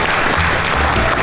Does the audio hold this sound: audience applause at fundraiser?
yes